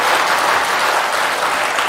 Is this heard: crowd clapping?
yes